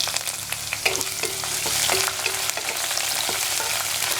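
Curry leaves and ginger sizzle in hot oil for Kerala-style garlic pickle, a loud, continuous crackling fry with small pops and occasional stirring scrapes, close up and with no voices.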